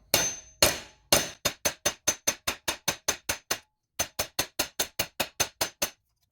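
A hammer pounds a 1 oz silver bar flat in a long, steady run of sharp metallic strikes, close and loud, with one brief pause midway and no talking.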